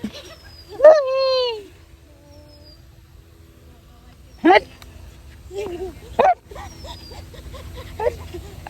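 Several dogs being fed biscuits give a drawn-out whine and then a few sharp, separate barks close by, with quiet gaps and background rustle between them.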